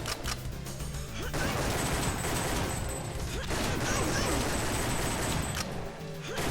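Sustained rapid gunfire from the 1995 Namco arcade shooter Time Crisis, a dense, loud and continuous volley that barely pauses across the whole stretch.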